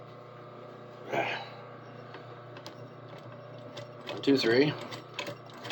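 An industrial sewing machine stitches a back pocket onto jeans in two short, close bursts of rapid mechanical whirring, separated by a quieter pause under a steady background hum while a voice counts aloud.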